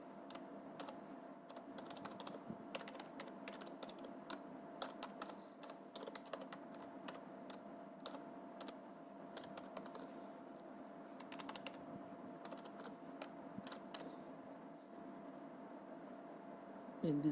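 Rapid clicks of a computer keyboard while HTML code is entered, a quick, irregular stream of light keystrokes under a steady low hum, with a person talking at times.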